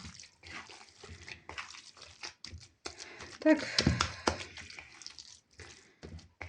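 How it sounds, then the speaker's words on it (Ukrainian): Water is poured and splashed into dough for bilyashi as it is mixed by hand. Uneven liquid trickles and sloshing run beneath a voice, with a louder burst of splashing midway. "коли ми додаємо водичку"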